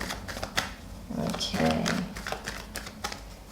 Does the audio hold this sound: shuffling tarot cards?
yes